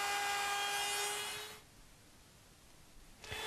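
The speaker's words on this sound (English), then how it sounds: "you can route away all the material to form the tenon" A Bosch router cuts a tenon in wood, a loud high-pitched whine for about a second and a half that stops abruptly, followed by quiet and a brief knock at the end.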